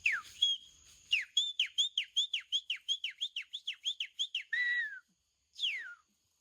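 A person whistles an imitation of a shiny cowbird call: a few rising-falling notes, then a rapid run of about fifteen short descending chirps, ending with two longer swooping whistles.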